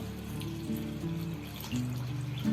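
Tap water runs steadily into a vessel while flattened rice (poha) is washed for poha vada, a close, continuous splashing and gurgling with small surges and no voices.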